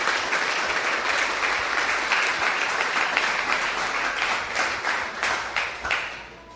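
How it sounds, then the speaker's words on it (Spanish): Church congregation applauding loudly, a full, sustained roar of clapping that stays dense for several seconds, then tapers off in scattered claps toward the end. "Dele un aplauso al Eterno, bien fuerte"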